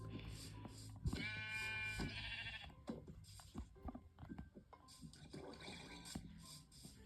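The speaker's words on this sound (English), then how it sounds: "Let's kill the sheep so I can have full hunger." Sheep in a video game bleating in a few drawn-out, wavering calls, close and clear, with scratchy game noises and thuds between them and no talking.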